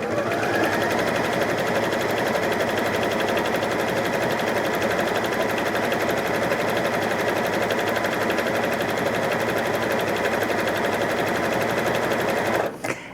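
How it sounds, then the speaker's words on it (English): A Janome 3160QDC sewing machine stitching a decorative scallop stitch, running steadily with a fast, even mechanical whir for many seconds before stopping abruptly. "So let's start stitching."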